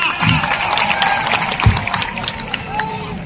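A crowd at a tribal day gathering in Dungarpur claps loudly, with cheering and a speaker's voice over the applause.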